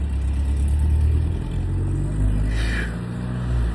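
A car driving past on a road, a loud low engine rumble throughout with a rising whoosh as it goes by near the end.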